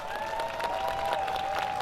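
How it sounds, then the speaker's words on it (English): A crowd at an outdoor neighborhood ribbon cutting and block party applauds the city's mayor in a brief, steady burst of clapping, with a sustained musical tone running underneath. "Give Mayor Kenney a round of applause"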